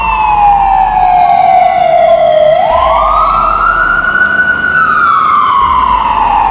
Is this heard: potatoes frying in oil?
no